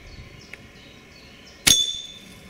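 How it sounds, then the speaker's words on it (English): An icicle fired as a projectile strikes a hard glass bottle, one sudden sharp clink with a bright ringing tail. Faint ambient noise sits before the impact. "Now we're trying to shoot a bottle with ice."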